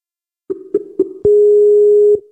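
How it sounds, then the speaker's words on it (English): Telephone ringing tone on a call line: three short tonal pips in quick succession, then a sustained steady tone lasting about a second before cutting off, clear and alone with no talk. "Pardon the ringing sound, ladies and gentlemen."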